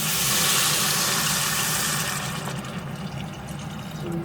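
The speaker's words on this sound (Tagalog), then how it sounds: "Lagyan na natin ng tubig." Water poured from a container into a cooking pot while making a spicy noodle soup with mixed vegetables: a loud, steady splashing gush for about two seconds that then tapers to a softer trickle and bubbling.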